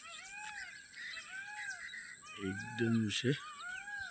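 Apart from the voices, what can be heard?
peacock calls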